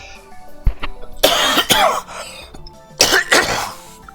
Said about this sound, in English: I apologize for coughing so much.